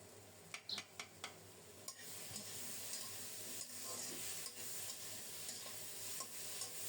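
Dried fish, hilsa head and bean masala sautéed in a pot with steady soft sizzling, under a few light clinks and scrapes of the stirring spoon, quiet and close, with no voices.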